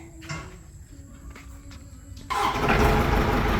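A car engine cranks and catches partway through after a quiet stretch, then settles into a steady, close-up running rumble.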